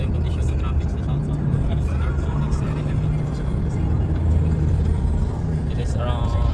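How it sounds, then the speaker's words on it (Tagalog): Steady road traffic on the South highway near the San Pedro exit, a continuous low rumble of cars and a passing bus, heard from inside a moving vehicle with faint talk over it. "Ito yung condition ng traffic sa South."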